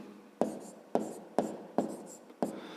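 Pen or pencil writing an answer by hand for a fifth-grade math exercise, five crisp evenly spaced strokes scratching close by on paper, with no talking.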